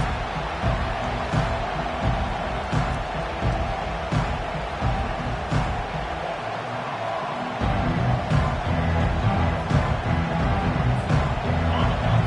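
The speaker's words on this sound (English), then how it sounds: "This crowd bringing an ear-splitting welcome to their visitors." A stadium crowd roars in welcome at a Michigan football game, a loud, dense and continuous roar that fills the whole stretch, dipping briefly before swelling again.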